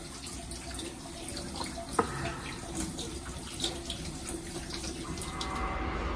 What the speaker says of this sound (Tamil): கை கழுவியாச்சு.